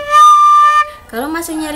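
A bright, piercing recorder note from incomplete fingering holds for under a second, then a voice starts talking right after it.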